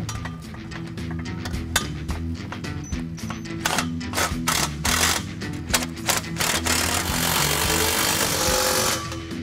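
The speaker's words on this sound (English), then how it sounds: "Now we're going to tighten them down, starting with the passenger side because it has the gasket on it." A power tool rattles and hammers loudly at close range while tightening exhaust retaining nuts on a 1999-2004 Mustang GT, with metallic clinks and bursts of impact noise throughout.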